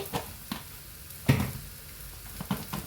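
Kashmiri chili powder and other ground spices fry in a pan for a Kerala-style chicken varuth arachathu, giving a soft, close sizzle with a few brief stirring scrapes and clinks.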